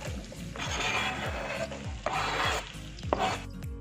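Sliced onions frying in about a cup of desi ghee in a wok over a low to medium flame, a steady sizzle with occasional stirring scrapes and clinks, close and fairly loud.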